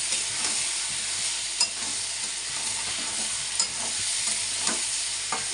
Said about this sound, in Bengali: এখন আমি মশলাটা দিয়ে ভালো করে কষিয়ে নেব।